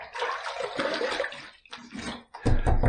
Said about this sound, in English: Let me put a little bit of water on my face first.